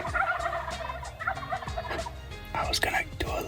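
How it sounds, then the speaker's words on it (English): Several wild turkeys gobble from the roost in pre-dawn darkness during a Utah spring hunt, with repeated gobbles near and far overlapping across the clip and no talking. "Got so many turkeys in here around me."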